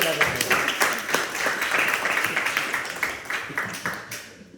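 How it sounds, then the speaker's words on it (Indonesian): A seated audience at a PLC session claps for presenter Dede Indra, dense rhythmic applause at steady loudness that slowly tapers off toward the end. "Ya kasih tepuk tangan dulu."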